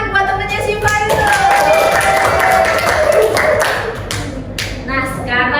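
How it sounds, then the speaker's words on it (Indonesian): Classmates in a school classroom clap for a fellow student, quick rhythmic hand claps mixed with voices and chatter, loud and close before tapering off. "Tepuk tangan buat temennya Syifa itu"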